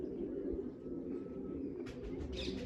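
Big pigeons having their feathers coloured give faint, low cooing throughout, joined near the end by a few sharper chirping sounds.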